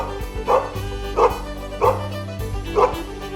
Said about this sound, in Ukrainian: Песики гавкають, коли щось охороняють або хочуть погратися.